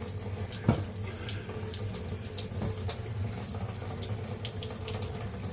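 A tap runs steadily into a sink while hands are rinsed with washing up liquid, a soft continuous splashing with a small clunk near the start.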